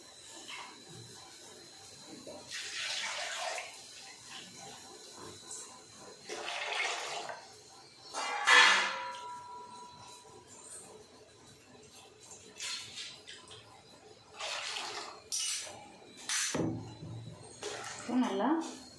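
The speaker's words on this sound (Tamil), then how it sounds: "கொஞ்சம் தண்ணி ஊற்றி நம்ம உள்ளே ஊற்றிக்கலாம்" Water is poured into a pan of egg kurma in short splashing bursts, with someone talking between them and faint clinks of utensils.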